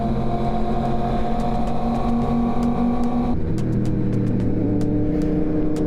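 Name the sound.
tour group vehicle driving slowly in the USA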